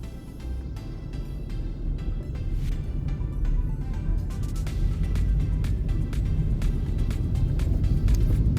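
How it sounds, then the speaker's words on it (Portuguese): A Chevrolet Cruze driving along, its steady low engine and road rumble continuing evenly throughout at a consistent close level, with no talking. "andando de cruzão da massa, nosso famoso carrinho que infelizmente vai sair de linha"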